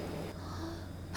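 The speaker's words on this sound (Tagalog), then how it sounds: "Nadalas yung bahing mo eh." One sudden, sharp sneeze bursts out at the very end, loud and close after a stretch of quiet indoor room tone.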